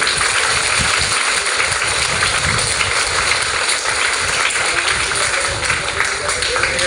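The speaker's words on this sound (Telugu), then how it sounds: "ఒకసారి గట్టిగా చప్పట్లు." An audience at a stage ceremony claps as guests are called up, giving sustained, dense applause that fills the whole stretch while voices carry over it.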